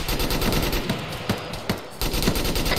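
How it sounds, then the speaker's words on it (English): Rapid automatic gunfire from an Arma 3 military firefight, loud sustained bursts of close shots with sharp individual cracks standing out, continuing almost without pause with only a short lull in the middle. "Keep the gun fire up."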